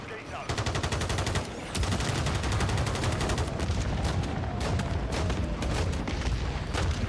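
Sustained rapid gunfire in a PC shooter game, dense automatic bursts rattling continuously and loudly, with someone talking over parts of it.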